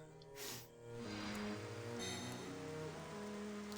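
Steady rainfall in Xenoblade Chronicles: Definitive Edition, a soft, even patter of rain on the ground beneath sustained game music, faint and continuous throughout.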